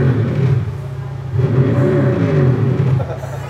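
A real car engine's exhaust rumbles loudly and close by, a deep steady drone that swells slightly midway through the short burst.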